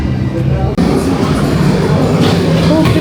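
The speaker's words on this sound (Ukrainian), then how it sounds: "Як прикольні маленькі трамвайчики" Small trams rumbling through a Lisbon street, a steady close mechanical roll with light rail clatter, with people talking over it.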